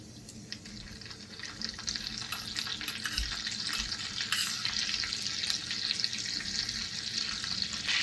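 Cumin seeds and butter sizzle in hot oil in a pan for tawa pulao, a continuous crackling fry that grows slightly louder and busier toward the end.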